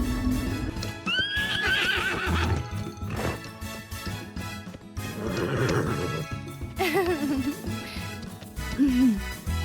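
A horse neighs loudly several times, long whinnies rising and falling, with hoof clops and other animal noises around them.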